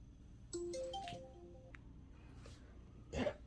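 A phone ringtone plays a short, bright electronic melody of stepped tones for about a second, close by and fairly clear over a quiet room.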